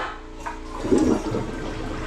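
A toilet flushes in a house bathroom with a loud watery rush that swells in the middle and drains away steadily, with no voices.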